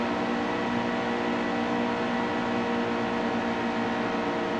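Steady broadband engine drone from a NASCAR truck racing in NASCAR Heat 2, an unbroken loud roar with no pauses or distinct events across the whole stretch.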